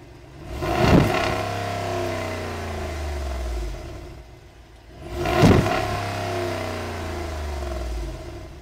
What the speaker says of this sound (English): let's take a listen to what this family SUV sounds like since it has a V8 underneath the hood